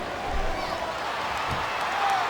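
Wrestling arena crowd at a WWE New Year's Revolution match, a broad, moderately distant roar of many voices with light applause, steady and unbroken.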